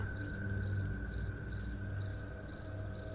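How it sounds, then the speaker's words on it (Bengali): Crickets chirp at night near a graveyard in a steady pulsing rhythm, about two bursts per second, over a constant insect drone, fairly near and unbroken by voices. "শুধু ঝিঝি পোকার ডাক"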